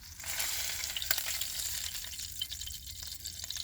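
Food sizzles steadily in a pan on heat set a little too high, a continuous close hiss of frying with small crackles and one sharp clink, no voices.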